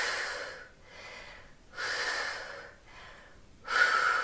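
A woman exhales forcefully during hip-lift ab exercises, with three loud breathy puffs evenly spaced and quieter inhales between them.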